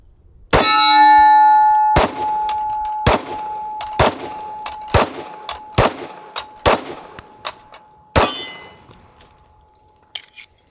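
Eight .45 ACP pistol rounds strike a steel silhouette target outdoors, each a sharp, loud metallic clang with a lingering ring, fired at an irregular pace of roughly one per second, the first and last hits loudest.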